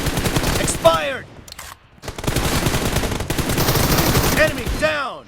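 Gunfire in PUBG Mobile during a shotgun match: a few sharp, loud shots in quick bursts with short gaps, and a game announcer voice calling out between them.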